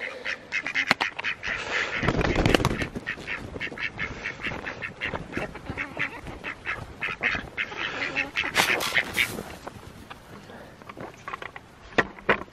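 Backyard chickens in early spring with frost still in the ground, giving repeated short clucks and squawks, fairly close and scattered across the scene, with a person speaking briefly in between.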